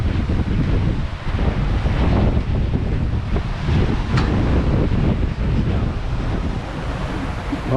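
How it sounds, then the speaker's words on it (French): Strong wind gusts between islands aboard a heeling sailboat, a loud, constant roar of wind buffeting the microphone, mixed with rushing water and surf around the hull. "là il y a une accélération du vent qui est super importante"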